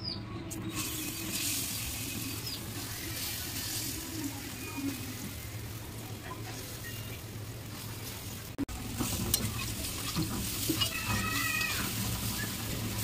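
Lentil pakoras go back into a hot wok of oil and fry with a continuous hiss and sizzle, stirred now and then, with a sharp clatter midway and busier bubbling toward the end.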